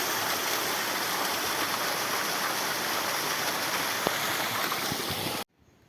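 A waterfall and stream in Australia, reached by steep tracks, roar in a steady, loud, close rush of flowing water that stops abruptly near the end, with no talking.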